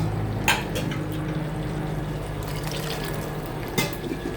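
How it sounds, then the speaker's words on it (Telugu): Water pours steadily into a pan of goat head curry, a continuous liquid rush with a couple of brief splashy bursts and no talking. "సరిపడిన వాటర్ వేసుకొని"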